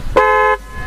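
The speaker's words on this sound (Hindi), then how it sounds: "ये आफ्टर मार्केट हॉर्न है" An aftermarket horn fitted to a Suzuki Intruder 150 motorcycle gives one loud, steady electric honk of about half a second, clear and close, with no talk over it.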